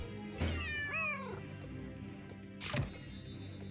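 A cat meows in a Nancy Drew video game: a clear, close, rising-and-falling meow, then a second shorter cry, over a quiet game ambience.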